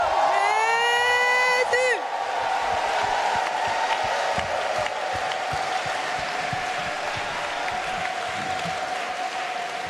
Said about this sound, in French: nous voulons pousser un grand cri pour acclamer Jésus en disant son nom